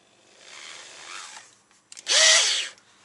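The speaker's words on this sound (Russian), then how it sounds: "Попробуем воспользоваться дрелью." An electric drill spins a Dnepr motorcycle valve pushrod clamped in its chuck. A softer first run is followed by a louder, higher whine that rises and winds down, with a few clicks between the runs.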